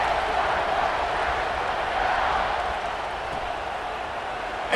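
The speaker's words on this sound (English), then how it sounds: "this crowd is buzzing after that last score." Stadium crowd at a Penn State versus Ohio State college football game in College Football 26, a steady broad murmur and roar with no distinct cheers or claps, even and fairly loud throughout.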